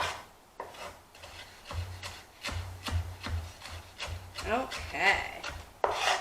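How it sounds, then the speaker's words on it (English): A knife chops basil finely on a cutting board, giving steady rapid rubbing and tapping strokes up close, with a brief spoken word near the end. "Now we're going to keep running our knife through this until we get a nice, beautiful, fine chop"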